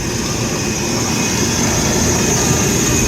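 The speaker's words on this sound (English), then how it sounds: "We can see the large motor running here." A large electric motor drives a rebuilt Strong Scott 5-ton mixer, giving a steady, even hum with broadband machine rumble and a faint high whine, running continuously and close by.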